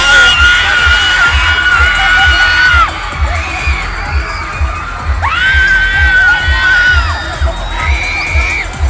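A large crowd shouts and cheers loudly in a dense, sustained roar, with rising whoops and children's high cries swelling, dipping near the three-second mark, then surging again.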